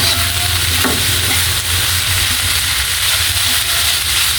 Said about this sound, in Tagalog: ihalo-halo lang na ganyan